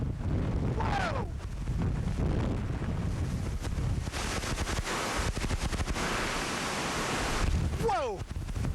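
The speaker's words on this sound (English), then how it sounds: "Here comes another big gust." Hurricane winds in the 2005 season batter the microphone with loud, roaring gusts and constant rumbling buffeting, and a voice briefly calls out over the din.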